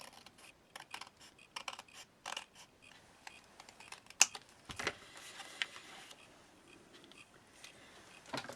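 Scissors cutting through a folded sheet of craft paper into two pieces, close up, with a series of short crisp snips and rustles followed by a louder final cut and paper handling, no voice.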